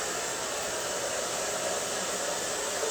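A hair dryer blows steadily at close range, a loud, even rushing hiss that carries on without a break.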